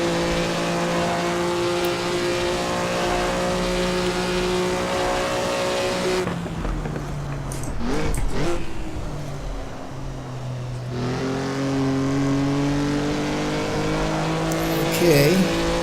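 A Maserati 250F race car engine in Assetto Corsa howls steadily at Monza, with a brief drop in revs on a heel-and-toe downshift, then climbs again, loud and close.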